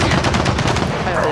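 Turret machine-gun fire in Gears of War 4: a dense, rapid, continuous stream of shots, loud and close, throughout the short moment.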